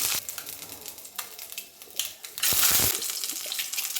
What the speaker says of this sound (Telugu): ఆయిల్ హీట్ అయిన తర్వాత కొంచెం వాటర్ ఉన్నట్టున్నాయండి అందుకే సౌండ్ వస్తుంది చిట్టపట్లాడుతుంది